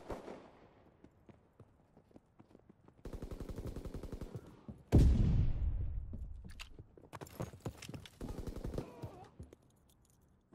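Gunfire rings out in the World War II shooter game Call of Duty WW2, with rapid automatic bursts, single shots and a heavy boom mixed with game effects, all moderately quiet.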